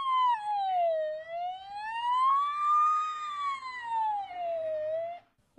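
A ten-year-old boy imitates an ambulance siren with his voice, a loud, clean wailing tone that slowly rises and falls in long sweeps for about five seconds before cutting off abruptly.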